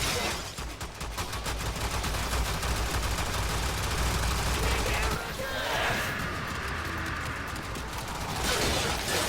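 Heavy Gunner enemies in the game Warframe fire their weapons in sustained bursts, a dense, continuous barrage of gunfire that stays loud throughout, with a brief swell of higher-pitched effects partway through.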